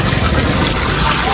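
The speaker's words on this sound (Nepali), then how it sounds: "यो मूलको पानीले मुख धुनलाई कस्तो मजा आउँछ" Spring water pours at a waterfall, a loud, close, continuous rush and splash that stays steady from start to finish.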